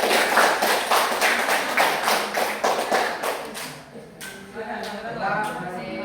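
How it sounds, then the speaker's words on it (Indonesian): An eighth-grade class claps together in an Indonesian classroom, a dense burst of hand claps for about four seconds, then thinning as a voice speaks over the fading applause. "Ya, kita tepuk tangan dulu."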